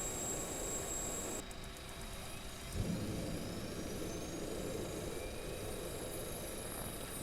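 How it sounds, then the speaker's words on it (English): An aircraft's left engine runs after start-up, heard as a low steady roar with faint rising whine tones, after a brief thump partway through; the sound stays constant and moderately quiet throughout. "Left engine running."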